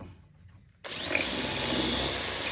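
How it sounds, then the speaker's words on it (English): A power drill bores pilot holes into the wood of a bathroom cabinet carcass, starting abruptly after a quiet moment and running as a loud, steady whir. "I'm going to pilot drill every screw I put in."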